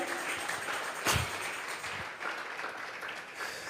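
Congregation at a Sunday morning church service clapping together as an offering of praise, a broad steady wash of applause with one sharper burst near the middle.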